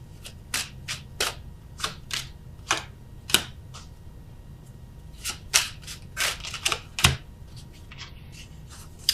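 Tarot cards are laid down one after another in soft, crisp slaps and flicks at an uneven pace, close by and fairly quiet, with no talk.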